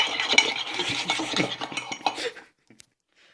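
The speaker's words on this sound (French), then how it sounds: "Et là, on mélange." A spoon stirs pastry ingredients in a bowl, scraping steadily and clinking against the sides for about two and a half seconds before stopping, with one faint tap after it.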